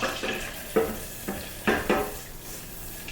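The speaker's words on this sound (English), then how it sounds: "You're just essentially simmering the butter until right before it burns" Butter simmering and browning in a pan, with faint steady sizzling and a few soft stirring scrapes that come in short bursts, nearby and fairly quiet, with no talk.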